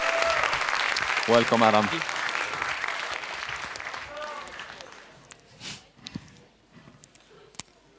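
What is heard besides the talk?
audience applause welcoming a speaker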